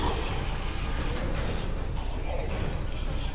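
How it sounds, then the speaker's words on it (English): An elevator in the video game Dead Space 3 travelling, a steady mechanical rumble with creaking and ratcheting, dense and continuous throughout with no voices. "Here comes the elevator. Take a ride on the elevator."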